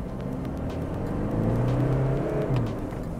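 A Toyota Fortuner 2.8 4x2 (2024) accelerates hard from inside the cabin, a steady low engine drone swelling in the middle as revs climb, then easing slightly near the end, with no talk over it.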